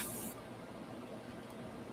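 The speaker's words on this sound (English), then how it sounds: "Let's spray it with water." A spray bottle gives one short, close hissing burst of water, followed by faint background noise.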